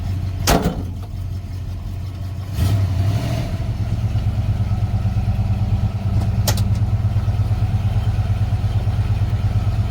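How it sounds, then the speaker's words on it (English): A 1982 Ford Capri RS engine idles with a steady low rumble, rising slightly as the car pulls ahead, with a few brief clunks along the way. "Let me pull it ahead, then we'll put those ramps under."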